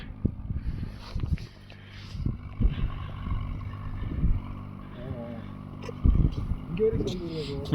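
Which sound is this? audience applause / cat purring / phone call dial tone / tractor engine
tractor engine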